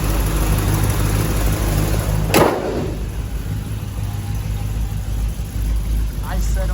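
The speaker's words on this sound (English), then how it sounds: "Nice set of mufflers, nothing overbearing. Enough to let you hear that" A 1964 Chevy Impala SS with a 327 V8 and small cam idles through mild mufflers, a steady low rumble held throughout, briefly interrupted by a sharp knock or door thump partway through.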